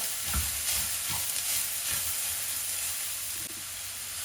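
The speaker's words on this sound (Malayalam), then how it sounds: "കുടപ്പനിട്ട് നമുക്ക് നന്നായിട്ട് ഇളക്കി എല്ലാത്തേക്കും നമുക്ക് യോജിപ്പിക്കാം." Banana flower stir-fry being stirred in a pan over a gas flame, with steady sizzling frying and repeated scraping stir strokes close by, no voices.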